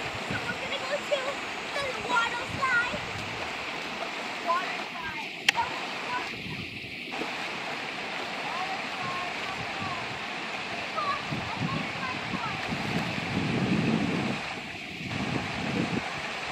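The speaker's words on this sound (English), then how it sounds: "They go into the waterfall." Waterfall roaring as a steady broadband rush, loud and continuous, with wind buffeting and children's voices faintly mixed in at times.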